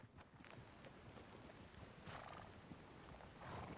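Red Dead Redemption 2 horse: faint clip-clopping hooves under a soft background, followed by a whinny near the end.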